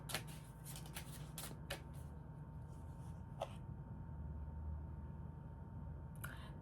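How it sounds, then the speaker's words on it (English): An oracle card deck being shuffled repeatedly, a quick riffling and slapping of the deck in bursts, close up, with a steady low background hum. "I'm now shuffling the Starry Beginnings Oracle deck and pull a clarifying card"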